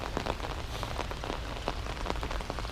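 Steady rain patters on a hard surface at Blue Lake in Vynohradar, Kyiv, with dense scattered drops throughout and no voices.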